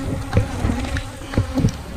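Wild honey bees swarm around a hive, a close, steady insect buzz with a few louder passes as bees fly near.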